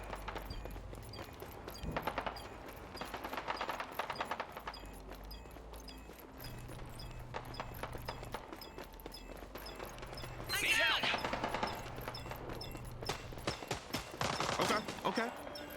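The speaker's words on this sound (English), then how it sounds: "Let's follow the gunfire." Gunfire from the video game Rogue Company, with scattered sharp shots and bursts spread across the clip at moderate distance, some rapid volleys clustering toward the end, under faint game ambience.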